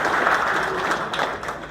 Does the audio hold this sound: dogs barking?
no